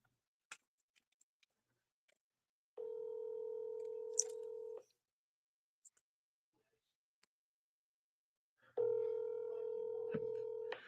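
Telephone call placed on speakerphone: faint scattered clicks, then two long, steady ringback tones about two seconds each, separated by quiet, heard clearly with no talk over them.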